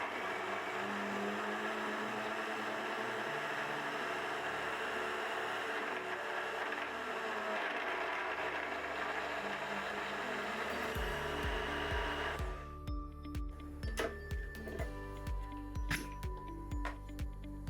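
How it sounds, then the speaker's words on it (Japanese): A Zojirushi BM-SA10 blender whirs steadily as it mixes a protein smoothie, a continuous motor drone for about twelve seconds, then it stops and a few clicks and clatters follow. "ミキサーを実行します。"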